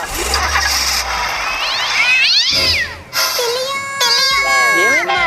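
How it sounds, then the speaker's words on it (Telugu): A black cat meows repeatedly, with long rising and falling wails close by, interrupted by brief engine-like rumbles. "బ్లేడీ క్యాట్. నల్ల పిల్ల వచ్చింది."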